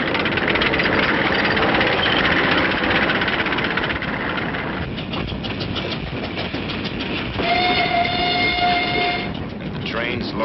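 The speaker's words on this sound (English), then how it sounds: "And the trains loaded with war wearies going back for salvage." A train loaded with war-weary equipment rolls along with rhythmic rattling wheels, then a sustained whistle blares for a couple of seconds before the clatter continues; Korea, 1951.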